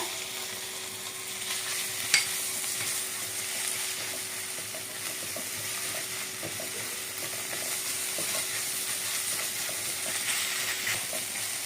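Ginger and garlic sizzling in hot oil in a pan while cooking pav bhaji, a steady bright frying hiss throughout with occasional scraping stirs and a single sharp clack.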